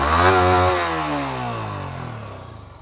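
A 2022 Yamaha R15 V4 motorcycle engine revs hard up close, then its pitch sweeps down smoothly as the throttle eases off and the revs wind back toward idle.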